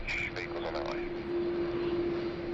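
A Qantas A330-300 jet airliner heads out from Sydney Airport, its engines producing a steady, fairly distant roar under a persistent hum while a person talks briefly at the start.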